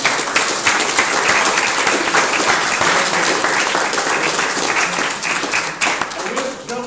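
Sustained applause and clapping from an audience at a live-streamed campus game-development club event, dense and steady for several seconds with voices mixed in and a slight dip near the end.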